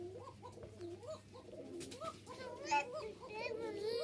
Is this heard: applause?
no